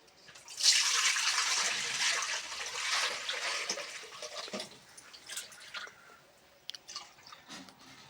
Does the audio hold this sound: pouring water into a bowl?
yes